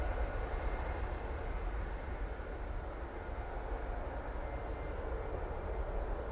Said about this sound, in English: that Air France A220 is going off to Paris Charles de Gaulle Airport